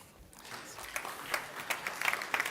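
An audience at an energy tech summit main stage applauds a panel speaker, starting from quiet and building into a soft, dense patter of many hands clapping, moderately distant.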